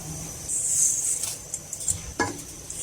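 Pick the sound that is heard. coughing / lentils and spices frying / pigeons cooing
lentils and spices frying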